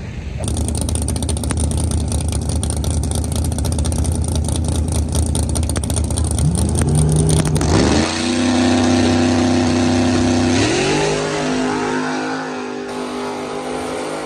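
Drag race car launching and accelerating down the strip at Pacemakers: a loud, sustained engine roar whose pitch climbs in stepped surges as it pulls away, heard alone without talk.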